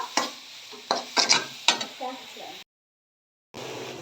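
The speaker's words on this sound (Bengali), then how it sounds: "এখন এটা ভাজা ভাজা করে নেওয়ার পালা" A ground paste of onion, garlic and green chili for dried fish fries with bursts of sizzle and metal scraping from stirring, then drops to silence before the sizzle returns.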